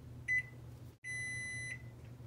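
A kitchen timer goes off after dough has risen for 10 minutes: a short high electronic beep, then a longer sustained beep tone, both clear and close over a low steady room hum.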